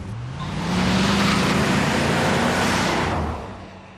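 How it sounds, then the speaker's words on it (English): A heavy 2.3-ton luxury car accelerates hard at full throttle, a loud sustained engine roar that swells over the first second, holds steady, then fades away near the end. "when you bury the throttle in that foot-deep carpet, something very, very strange happens"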